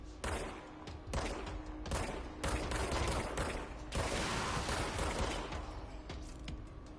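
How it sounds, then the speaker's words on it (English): Repeated bursts of gunfire from a gun in the game Control, loud and close, with several separate volleys followed by a longer sustained stretch of shooting and clatter. "I like this gun. It feels good to shoot."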